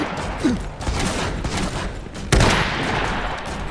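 Burst of battlefield gunfire from a moving machine-gun platform in the Iron Harvest strategy game, a dense, continuous crackle with a sharp louder blast near the end.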